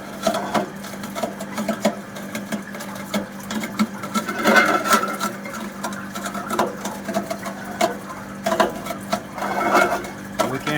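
A 1 TPD seawater flake ice machine in split design, built of 316 stainless steel, scrapes ice as its blade works across the ice layer: a steady, busy mechanical whirring and rasping with irregular swells, fairly close, with no talk.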